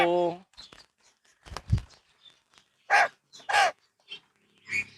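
Belong birds in an aviary in Pringsewu, Lampung, give several loud, harsh, crow-like caws in separate bursts, with a brief voice and some rustling between calls.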